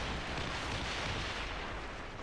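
Bombardment in a video game: heavy artillery fire rolls on as a dense, continuous roar with muffled booms blending together, loud and close, with no gaps.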